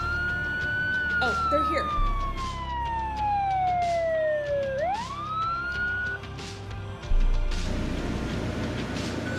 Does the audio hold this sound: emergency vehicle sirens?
yes